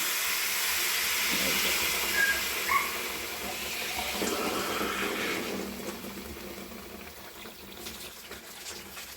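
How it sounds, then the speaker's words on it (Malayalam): Water pours into a pot of chicken curry as a steady, rushing hiss that fades gradually toward the end, with no talking. "ഇനി വെള്ളം ഒഴിക്കുകയാണ്"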